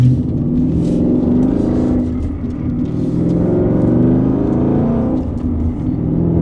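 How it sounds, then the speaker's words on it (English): A Ford Mustang GT with an MBRP 3-inch race cat-back exhaust rumbles loud and deep, rising as it accelerates onto a highway, heard from inside, steady and booming throughout. "this is a big exhaust note. It's a loud exhaust note."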